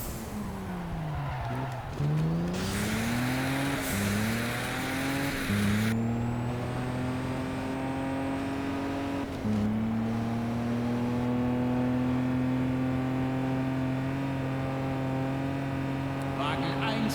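Race cars roar along in the street-racing game Juiced 2 with nitro boost engaged. Engine tones climb and shift through several gear changes, steady and loud, with tire noise running alongside.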